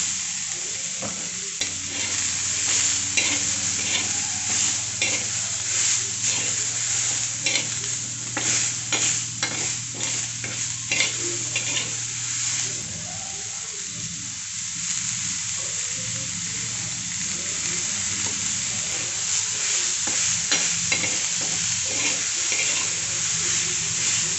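Finely chopped onions, two large ones, frying and being stirred in a hot pan for a bombil kanda dish, a steady sizzle with repeated scraping strokes of the spoon, close and fairly loud, with a low hum beneath for much of it.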